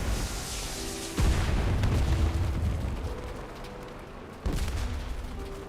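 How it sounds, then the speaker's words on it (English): Bombs bursting in a co-op war video game: two sharp, loud blasts about three seconds apart, each followed by a rolling, decaying rumble, with no voices. "I love getting fucking bombed to fucking death."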